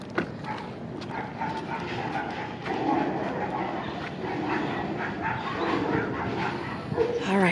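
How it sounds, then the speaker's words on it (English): Several dogs bark and yip in a noisy, overlapping jumble, with whimpering mixed in, fairly close and continuous throughout. "there was some dogs that were barking"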